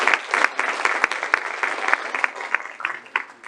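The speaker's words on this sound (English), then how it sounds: "we should really applaud them for what they do for this area" An audience at a Lake Conroe Republican Women candidate forum breaks into applause, a dense run of many hands clapping with sharp individual claps standing out, fairly close and steady before thinning slightly.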